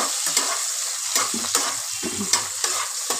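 Chopped onion stirred and fried in a pan, a steady sizzle punctuated by regular spatula scrapes and clinks every half second or so, close and clear with no talking.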